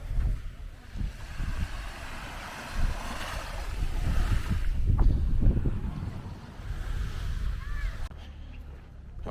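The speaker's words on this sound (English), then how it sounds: "Most gentle waves." Soft waves washing in and out on the Cozumel, Mexico shore amid wind noise on the microphone, a low rolling surge that swells and fades.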